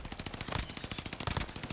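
Rapid automatic gunfire in the video game Warzone, a fast, steady stream of close, sharp shots filling the short burst with no talking.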